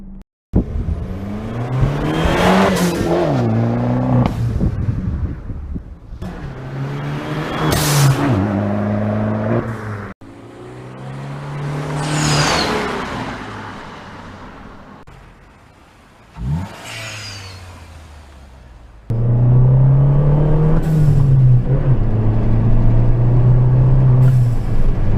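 Hidden speakers under a car's hood play a fake twin-turbo blow-off valve effect, loud and close. Several bursts of revving and whooshing rise and fall, with sharp venting hisses between them. No one speaks.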